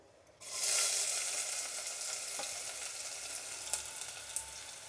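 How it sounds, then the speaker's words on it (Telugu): Onions drop into hot oil for a curry and burst into a loud, close sizzle that starts suddenly and then settles into a steady hiss, with a few faint stirring clicks. "ఇప్పుడు ఆయిల్ వేడెక్కింది, ఎర్రగడ్డలు వేసుకుందాం."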